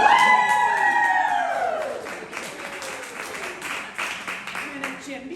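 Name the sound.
audience cheering and applause at book launch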